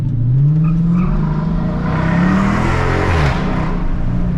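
A Dodge Charger engine revs loudly and close, rising and falling in pitch across two strong pulls with a throaty roar, with no talking.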